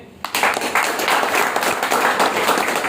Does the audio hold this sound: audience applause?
yes